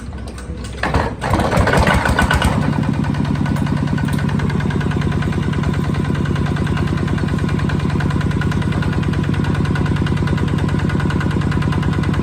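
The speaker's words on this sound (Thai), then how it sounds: "ก็จะให้ช่างลองเครื่องให้ลูกค้านะครับ" A Kubota ZT155 Plus hand-crank diesel engine cranks briefly, catches, and settles into a loud, steady idle with a constant throbbing rhythm that continues to the end.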